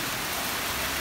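Heavy rain pours down in a steady, dense hiss that fills the whole short stretch with no pauses or separate drops standing out.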